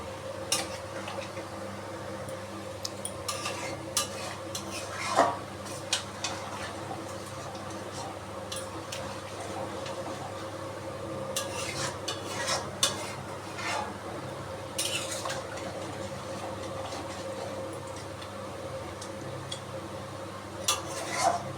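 Mutton stirred and sautéed in its boiling cooking water in a pot, with repeated metal spoon scrapes and clinks against the pot over a constant low bubbling, close and fairly quiet.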